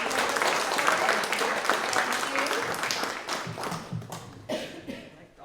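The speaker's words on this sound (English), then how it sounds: "Can we have a round of applause?" Audience at a museum steampunk show and tell in Waltham gives a moderate round of applause that gradually thins into scattered individual claps, with some voices mixed in.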